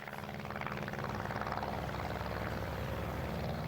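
A Lockheed racing airplane flies over the Duxford airshow in 1999, its propeller engine a steady, loud, rough drone that holds level without a break.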